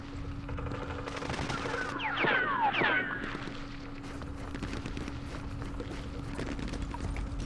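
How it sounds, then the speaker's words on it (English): Machine-gun fire in the Vietnam War strategy game Campaign Series Vietnam: a steady, dense crackle of distant automatic fire with a brief louder flurry and some whistling tones partway through. "there's machine guns up here"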